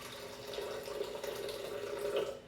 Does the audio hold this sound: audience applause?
no